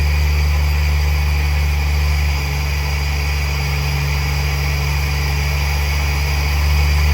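Toyota JZX100 engine idling with its idle air control valve stuck open, a steady loud low rumble with a constant drone and faint hiss holding evenly throughout, no talking.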